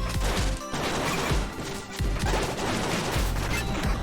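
Explosions in the Mega Man-inspired video game Gravity Circuit form a dense, loud barrage of repeated crashing blasts and bursts, almost continuous across the whole stretch.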